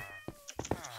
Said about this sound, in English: How did cats get over here?